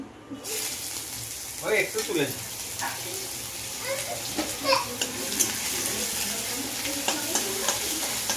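Grated ginger sizzles in hot oil in a pan for home-style chana dal, a close steady frying hiss with scraping stirs, and a voice speaking over it.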